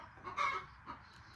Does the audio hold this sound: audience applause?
no